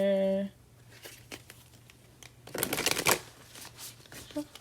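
Cards shuffled in a quick riffle burst after a short tone, then crisp rustling and snapping bursts, fairly close, with faint talk around them.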